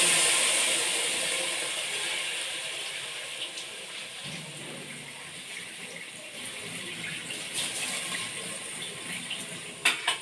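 Water poured from a tap into a cooking pot for creamy sopas with shredded chicken, a steady faint rushing stream that runs throughout, with a few light knocks near the end.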